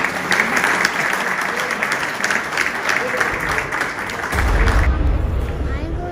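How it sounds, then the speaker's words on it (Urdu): Audience applause at a book inauguration event, a dense, steady burst of clapping from a seated crowd lasting several seconds, with some murmuring mixed in before the applause swells near the end. "میں بلانا چاہوں گی آپ سب کی بھرپور تالیوں میں"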